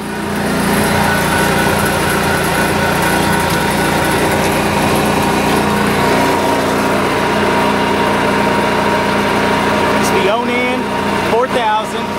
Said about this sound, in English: I'm going to show you the generator here.